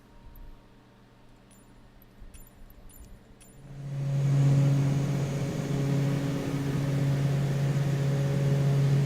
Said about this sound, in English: We'll go ahead and put the sounds back on so we can hear what's going on with the engines.